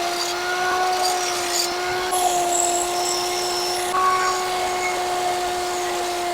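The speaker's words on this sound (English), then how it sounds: "Let me clean this up a little more and then I'll get the other grinder back out." An angle grinder works steadily on the metal frame of a motorcycle jammer, giving a continuous, close, even whine with a gritty hiss of grinding that hardly varies for the whole stretch.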